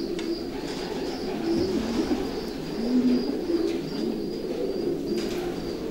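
Racing pigeons cooing in a stud loft, several soft low coos rising and falling close by over a steady ambient hum, with faint higher chirps in the background and no talking.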